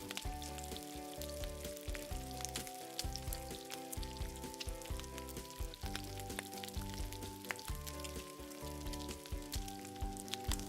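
Gulab jamun frying in oil over a low flame give off a continuous crackling sizzle, heard beneath a louder rhythmic music track.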